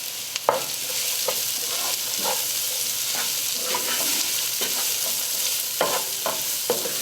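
About 1.5 cups of chopped onion, with garlic, sizzling steadily in a pan for a vegan butter cauliflower curry, with repeated scraping clicks of a utensil stirring through it.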